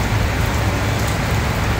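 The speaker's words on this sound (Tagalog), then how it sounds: "It's Monday, raining here." Rain falls outside a condominium residence, a loud, continuous wash of broadband patter that stays even throughout, with no talking.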